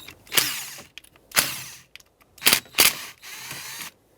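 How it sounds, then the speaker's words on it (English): A T25 Torx bit backs out screws holding a motor onto a 2011-2020 Toyota Sienna sliding door window regulator, giving four or five short, sharp ratcheting bursts separated by pauses, close and fairly loud. "With a T25 Torx bit, you can remove the 3 screws that hold the motor onto the regulator"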